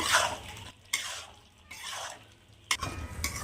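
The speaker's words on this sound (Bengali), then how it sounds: "সয়াবিনটা দিয়ে দেবো আরও কিছুক্ষণ কষিয়ে নেব" Soya chunks are stir-fried in a pan for curry, with a few soft scraping, sizzling strokes of the spatula separated by short pauses, close and quiet.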